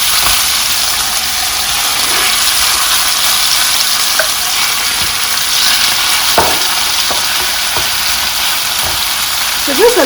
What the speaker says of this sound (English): Then I'll go in to add my marinated pork here.